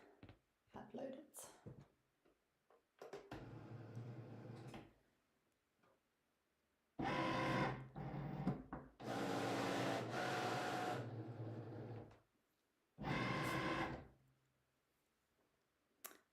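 Cricut cutting machine loading a printable magnetic sheet, giving several bursts of mechanical whirring and ticking with pauses between them, fairly close, with a voice speaking early on.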